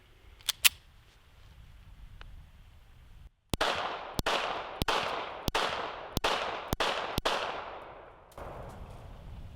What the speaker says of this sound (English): So let's take a couple shots with it in preparation for our recreation.